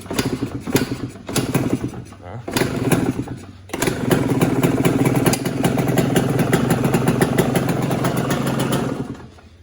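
A Yamaha YZ125 two-stroke dirt bike that was blown up and is getting a top end rebuild runs close by. It sputters and catches through a few uneven bursts, then holds a loud, steady, buzzing idle.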